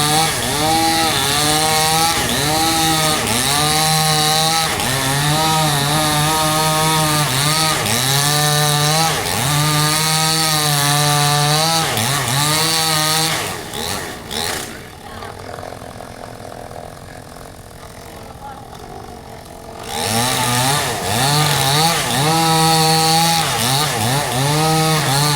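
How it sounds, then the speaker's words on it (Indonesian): A chainsaw cuts during house demolition work near a ditch, with a loud, buzzing engine whine that rises and falls as it bites. It drops to a lower idle for several seconds midway, then revs up again close by. "Nah itu lagi gergaji menggergaji guys."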